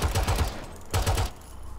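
Rainbow Six Siege gunfire comes in two close, loud bursts of rapid automatic shots, a few quick rounds each, separated by a brief gap, then fading tail. No talking is heard.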